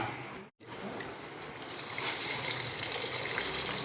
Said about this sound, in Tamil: ஒரு கிளாஸ் தண்ணி ஒரு சின்ன கிளாஸ் தண்ணி ஊற்றிடலாமா